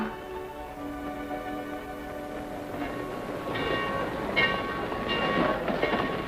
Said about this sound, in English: Better hurry, folks. Your train's about to leave.